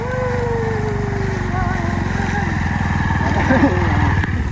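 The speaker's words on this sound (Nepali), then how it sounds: "हाम्रो साथीले यहाँ बाइक लिँदैछ" A motorbike engine runs nearby with a steady, throbbing idle, while people talk over it.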